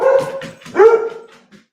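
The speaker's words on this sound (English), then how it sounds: "Damn dogs." Indoor dogs barking and yelping close by, a few loud barks then a whimpering tail-off, with no talk over them.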